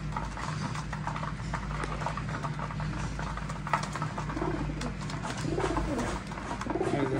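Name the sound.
pigeons cooing, racing pigeons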